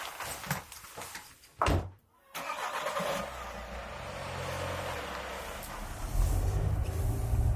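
A car engine starts for a drive to the supermarket in a snowy Austrian Alps setting, preceded by door clunks and followed by a steady close idle and low rumble, no talking.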